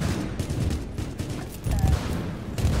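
Rapid gunfire from an online shooter game, loud bursts of shots firing in clusters over a few seconds, with a voice speaking over it.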